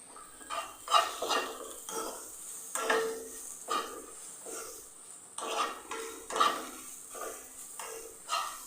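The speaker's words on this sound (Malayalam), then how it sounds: "നല്ലപോലെ ഒന്ന് റോസ്റ്റ് ചെയ്തെടുക്കാം" Grated coconut being roasted in ghee in a pan while making a snack with beaten rice, a spoon scraping and stirring against the pan in repeated strokes under a faint sizzle, close and moderately quiet.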